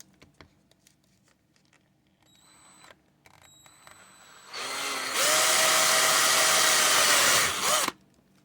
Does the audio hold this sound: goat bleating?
no